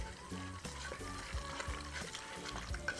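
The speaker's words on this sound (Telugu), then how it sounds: "మొత్తం చికెన్ అంతా బాగా మిక్స్ చేసేయండి." Chicken pieces are stirred with oil and spices in a pot, giving wet, squelching mixing sounds in a quick uneven rhythm, close and moderately loud.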